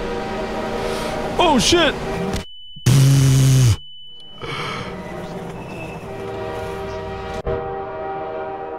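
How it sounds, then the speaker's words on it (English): Trains rushing past with a blaring horn in the video game Half-Life 2: wavering engine tones, then an abrupt loud roaring blast of horn and rail noise, followed by rumbling carriages and a sharp clank, with a man exclaiming over it. "There's active trains here."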